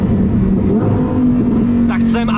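A Lamborghini V10 exhaust roars loudly and continuously at close range, a dense steady drone with a voice speaking over it near the end.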